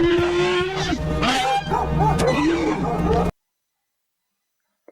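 Dogs bark and yip amid a noisy, busy mix with people talking over it, then everything cuts to silence after about three seconds.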